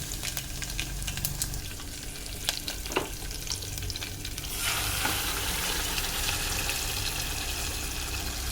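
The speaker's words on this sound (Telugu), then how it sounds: "ఆయిల్ వేసుకున్నాం తాలింపు చేసుకోవడానికి." Tempering spices such as garlic, seed spices and dried red chillies sizzle and crackle steadily in hot oil in a heated pot, getting louder and more continuous partway through.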